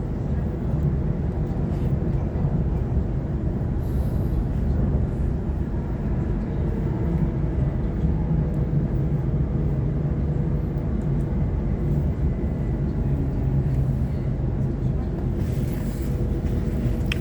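A Sydney Trains T8 B-Train runs along the line in a steady low interior rumble and drone that holds for the whole stretch, with faint rattles and no clear speech.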